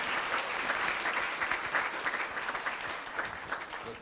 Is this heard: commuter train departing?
no